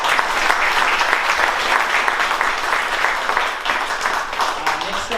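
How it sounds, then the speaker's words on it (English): A live audience at a 2022 veterans event gives a full round of applause, dense steady clapping sustained throughout at close range with no pause. "Let's give her a round of applause, please"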